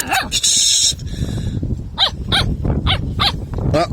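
Several puppies bark and yip in a quick series of short sharp calls at close range, with some whimpering and scuffling between barks.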